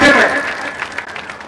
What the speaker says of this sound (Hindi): एक बार जोरदार तालियां इन दोनों अध्यक्षों के लिए।